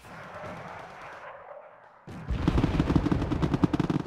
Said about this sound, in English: I'm using these mortars to kind of keep my infantry alive